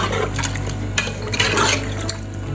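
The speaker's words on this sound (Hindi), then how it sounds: "मिक्स करते हैं इसको," Beef and bottle gourd curry stirred in a pot after water has been added, with steady sloshing liquid and occasional scraping clinks of a spoon against the pot, continuous and close.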